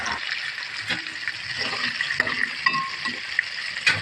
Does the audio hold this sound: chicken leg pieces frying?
yes